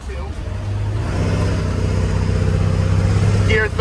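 An old diesel mint van pulls along in second gear, its engine droning steadily and loud up close with a low, sustained rumble throughout.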